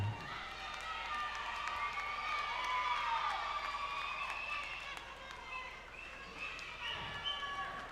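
Pageant audience applause, a sustained, moderately distant wash of clapping and crowd noise with a voice speaking over it.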